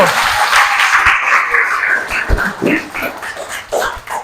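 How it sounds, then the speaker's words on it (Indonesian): An audience of students in a classroom session claps for a classmate, a loose, fairly loud patter that swells early and then thins into scattered claps with some background noise. "Kasih tepuk tangan dulu untuk Ricardo"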